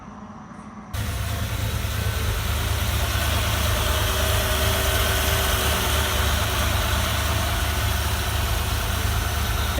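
An early Ford Bronco's engine idles after a brief quiet moment, then holds a loud, steady, close rumble with constant vibration and no talking.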